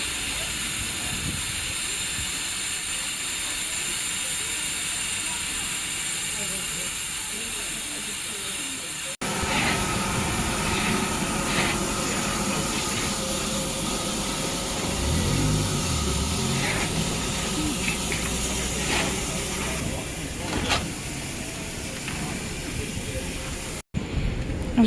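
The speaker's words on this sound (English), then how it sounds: "the steam train has arrived" Steam train pulling into a station on a day trip to Tunbridge Wells: a steady, loud hissing and rumbling wash that swells after the first few seconds, with clanks and mechanical noise layered over it.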